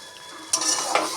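Mustard flower greens frying in a pan with salt and turmeric, a soft sizzle with a couple of sharp stirring scrapes, close and without voices.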